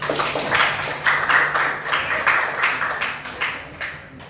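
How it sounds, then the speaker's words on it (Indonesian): Students in a classroom clap together after a lesson, in short rhythmic bursts at roughly regular intervals. The clapping is fairly close and moderately loud, with faint background tones and no clear talk. "Tepuk tangan buat kalian semua"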